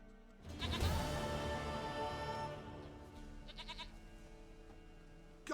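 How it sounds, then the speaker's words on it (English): A goat in The Witcher 3: Wild Hunt gives one long, loud, wavering bleat, followed by a fainter trailing bleat, heard up close against quiet game ambience. "Goat of mine, dearest, sweetest goat."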